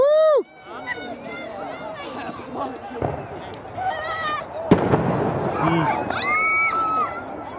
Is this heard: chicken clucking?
no